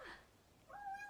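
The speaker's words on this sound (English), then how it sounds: "And cute little cat noises." A small cat makes soft, quiet chirps and a short rising meow, faint and close, in two brief vocal bursts.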